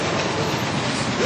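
A passing train in Cleveland produces a loud, continuous rumbling roar that fills the whole moment with dense broadband noise and no clear gaps.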